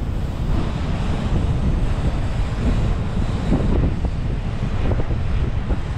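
Loud, steady wind buffeting the microphone while riding along Marine Drive in Cox's Bazar, continuous broadband roar throughout with the surf-like rush of strong gusts and no talk.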